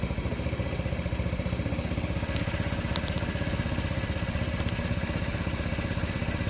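Honda Ruckus scooter engine idling after an air cleaner cover replacement, a steady rapid putter with even rhythmic pulses, close and unbroken, with a couple of faint clicks.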